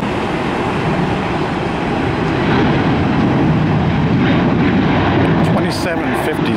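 An airliner departing Tampa airport roars steadily with broadband engine noise that swells slightly as it climbs away, while people talk over it.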